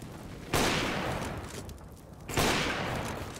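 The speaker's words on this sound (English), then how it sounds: "Shoot to the smoke." Gunfire in the video game CS:GO, aimed into a smoke grenade: two loud sustained bursts of rapid shots, the first starting about half a second in and the second near the end, harsh and close with no voices over them.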